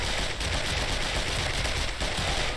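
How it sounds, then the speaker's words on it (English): A submachine gun in the zombie survival game 7 Days To Die fires continuously, a dense, loud, rapid stream of shots that fills the whole stretch without pause. "When in doubt, bust the SMG out."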